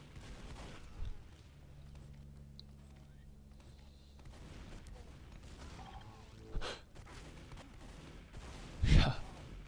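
Sharp shotgun blasts crack out in a Team Fortress 2 2v2 MGE match, a few isolated loud bursts spread across the stretch, the last one the strongest, over low game ambience.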